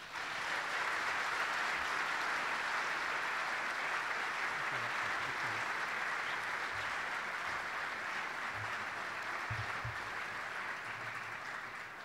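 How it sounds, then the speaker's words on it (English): Sustained crowd applause fills an auditorium for the keynote speaker, Acting Chief Justice Lawton Nuss, at a 2010 opening ceremony, steady and dense throughout without a break, with a few low thumps underneath. "if you would all give a great round of applause for our keynote speaker, Acting Chief Justice Lawton Nuss."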